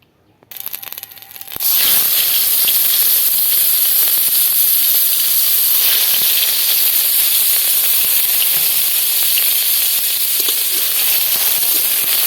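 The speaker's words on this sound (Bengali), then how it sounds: "এবার ঢ্যাঁড়স ভাজার তেলে আমি পেঁয়াজ বাটা দিয়ে দিচ্ছি।" Onion paste hitting hot oil left from frying okra, a sudden loud, close hissing sizzle that bursts up after a brief quiet start and holds steady and strong to the end.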